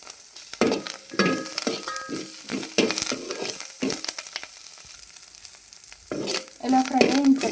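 Karam podi ingredients for an idli and dosa spice powder fry in a little oil in a pan, with repeated scraping stir strokes over a continuous soft sizzle and a brief clatter near the end.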